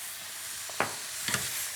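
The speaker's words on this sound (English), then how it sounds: "So basically just going to deglaze in the pan." Mushrooms and pork in a pan with soy and oyster sauce give a soft steady sizzle, broken by a couple of brief stirring scrapes and splutters.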